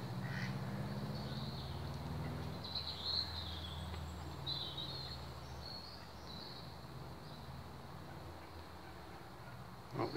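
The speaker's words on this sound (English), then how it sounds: "Oh, the ducks are moving in now." Faint, distant duck quacks rise over a low outdoor hum with insects chirping, quiet and spread out across the scene.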